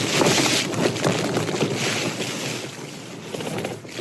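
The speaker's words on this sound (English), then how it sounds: "I'm guessing that's pretty loud for you guys with the camera. That wind." Strong gale-force wind gusts roar at a winter wild campsite during a storm with heavy rain, a loud, continuous rushing buffet that surges and eases in waves, blasting close against the microphone.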